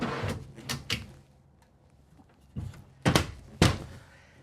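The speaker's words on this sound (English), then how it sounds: "you get your pantry. So you have 7 full pull-out drawers." Pantry pull-out drawers in a 2023 Newmar SuperStar 4059 RV are opened and shut, giving a run of close, fairly loud thunks and slides: three quick knocks early, then three sharper bumps near the end, with no talking.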